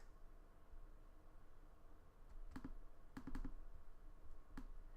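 Quiet computer keyboard keys clicking in brief bursts for a cutting shortcut, a few separate presses and a quick cluster of taps over faint background hiss, with no one speaking.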